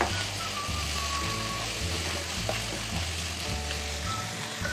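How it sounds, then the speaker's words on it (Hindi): Spaghetti and vegetables seasoned with black pepper sizzle loudly and continuously in hot oil, with a steady crackling hiss and a low hum underneath. "1 मिनट और थोड़ा फ्राई करेंगे हम।"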